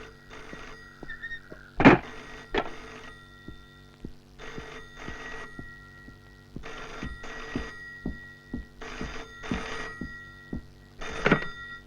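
An old landline telephone rings in a scene from the Telugu film Drohi, starring Kamal Haasan and Arjun, in repeated loud bursts separated by short pauses, clear and close with no talking over it.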